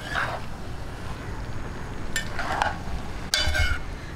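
Pansit bihon noodles with squid are stirred in a pan, giving a steady sizzle with a few sharp scraping and clanking strokes of the utensil against the metal.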